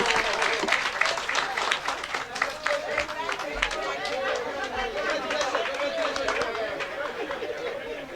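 An audience at a general assembly breaks into applause after a speech, a steady roar of clapping mixed with crowd chatter and murmuring voices that carries on throughout.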